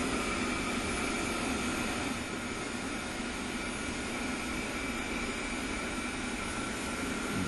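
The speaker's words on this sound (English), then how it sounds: "we'll go ahead and start up the right engine now" Right jet engine of an A-10C Warthog spooling up in the DCS flight simulator, a steady loud broadband roar with a sustained whine that holds for several seconds with no talk.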